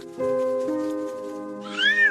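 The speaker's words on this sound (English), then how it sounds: "Mom, look, we found a kitten." A small kitten rescued from a storm lets out a long, steady, close meow that shifts pitch partway, then a shorter, higher rising mew at the end, with no talk.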